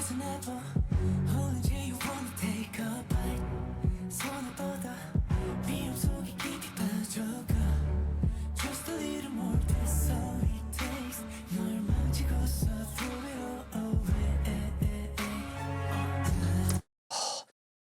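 Dark, dramatic K-pop track with loud pulsing beats and sharp accented string hits cutting through a dense mix, then a sudden brief drop to silence and a final short burst.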